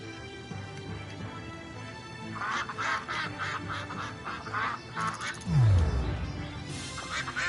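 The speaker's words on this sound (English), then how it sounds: "A lot of the ducks are feeling pretty spry" Ducks in a PS4 video game quack in a quick run of nasal calls that fall into a loose rhythm, moderately loud over a low game backdrop, followed by a deep swooping whoosh.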